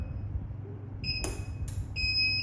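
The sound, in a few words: water leak detection panel internal buzzer in fault condition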